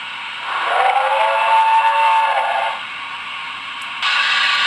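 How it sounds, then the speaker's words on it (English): A Broadway Limited N scale Pennsylvania Railroad M1b locomotive sound decoder plays industrial background ambience: a steady hissing, steam-like wash that swells with a whistling tone for about two seconds, then settles to a lower hiss before rising again near the end. "20 is industrial background sounds."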